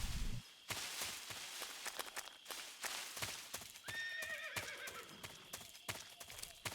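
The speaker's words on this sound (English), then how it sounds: "Did I just hear a horse?" A horse in the video game Metal Gear Solid 3 whinnies loudly midway through, over a steady run of clip-clopping hooves and game effects, close and clear.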